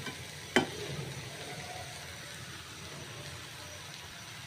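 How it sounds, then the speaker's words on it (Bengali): A cabbage bhaji of lentils, potato and carrot sizzles quietly in a pan as it is stirred. One sharp utensil clink stands out early, then a soft, even frying hiss carries on. "এখন আমি ভালোভাবে আবার নেড়ে চেড়ে মিশিয়ে নেব"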